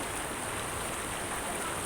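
Water pours strongly at a waterfall, a dense, even rushing hiss that holds steady throughout with no break.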